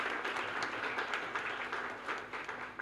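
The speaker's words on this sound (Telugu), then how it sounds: "ఒకసారి గట్టిగా చప్పట్లు కొట్టి వాడిని నిద్ర లేపాలి" A crowd at a Brahmin welfare association gathering claps loudly and steadily, a dense wash of applause that holds for about three seconds without a break.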